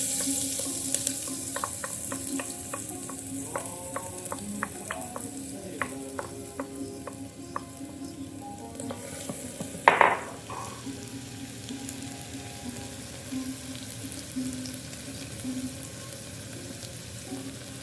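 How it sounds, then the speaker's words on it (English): Onions frying in a pan with cumin for an Indian dish give a low steady sizzle, broken by a quick run of light crackles and one brief louder clatter midway, no voices. "We'll add some onions."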